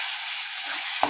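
Cauliflower and potatoes fry in a pan with ginger-garlic paste, salt, turmeric and chilli powder, giving a steady close sizzle with a brief stirring scrape at the end.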